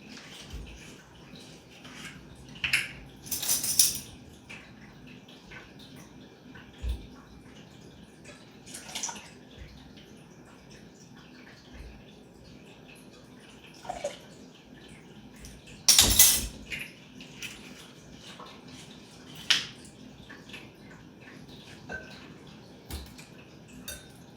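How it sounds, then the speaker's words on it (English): Dressing ingredients with white wine vinegar, free of soy, are whisked in a bowl, producing scattered light metallic clinks and taps with a couple of sharper knocks over a quiet kitchen background. "It's as simple as whisking the ingredients together."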